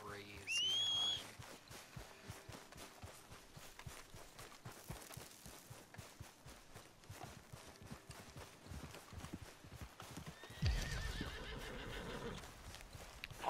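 A horse's hooves clop steadily in Red Dead Redemption, with a whinny near the start and a burst of louder neighing and snorting near the end.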